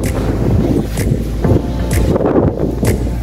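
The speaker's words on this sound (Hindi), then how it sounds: "मैं आपको दिखाता हूँ आंधी और खूब तेज़ हवा।" Strong gusty wind from a sudden dust storm before the first rain buffets the microphone outdoors in loud low rumbling surges, with brief whooshing bursts recurring every second or so.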